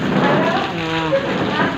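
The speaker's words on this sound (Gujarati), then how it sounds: "જો વરસાદ ચાલુ થઈ ગયો" Steady rain pours down, a dense hiss close by with a faint voice murmuring underneath.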